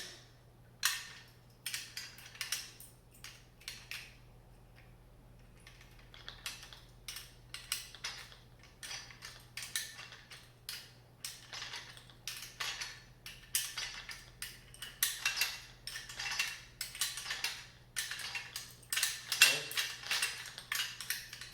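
Small metal lock washers clink and rattle while a Bora Portamate PM-1 mobile base for a bandsaw is assembled; a long run of light, close, irregular metallic ticks and taps with a faint steady hum underneath.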